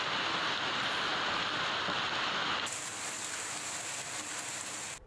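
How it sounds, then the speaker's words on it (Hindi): Steady heavy rain pours down during a hailstorm in Uttar Pradesh, a dense continuous hiss that shifts slightly in tone partway through and carries on alone without voices. "12 बजते बजते यहाँ भी ओलों ने और बारिश ने कुछ ऐसी दस्तक दी"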